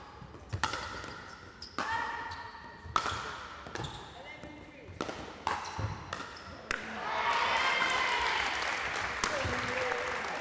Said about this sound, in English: applause all round, not just from the crowd, but from Owczarek as well.